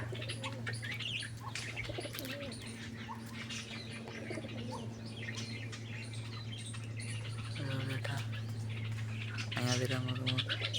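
Pigeons chirp and call in a loft with flapping wings among them, bursts of chattering calls scattered over a steady low hum, and a person talking in the background.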